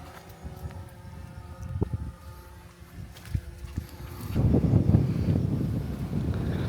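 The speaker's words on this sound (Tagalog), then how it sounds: "Wow, sarap ng hangin." Mountain wind buffets the microphone outdoors, a low rumbling roar that surges and grows louder in the second half, with some faint knocks and rustles.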